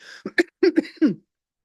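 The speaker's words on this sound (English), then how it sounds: "So we'll carry on with this coughing nonsense for a while." Several harsh coughs in a short burst, close and fairly loud, followed by silence.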